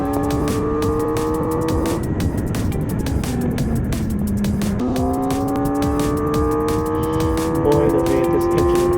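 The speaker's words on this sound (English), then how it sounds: "the way this engine growls is absolutely exhilarating" Kawasaki ZX 4R motorcycle engine growling on a ride, high-pitched revving with rising tones that dip near the middle and then climb again under steady wind noise.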